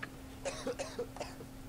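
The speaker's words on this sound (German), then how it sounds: "Nicht husten, geht weg." A short cough with throat clearing, a few quick faint bursts over a low steady hum in the background.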